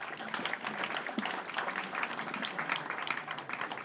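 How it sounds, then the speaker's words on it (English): Audience applause welcomes a principal at an IEEE international conference valedictory function, a dense, steady patter of many hands clapping at moderate level throughout. "Please join me in welcoming our principal with a big round of applause."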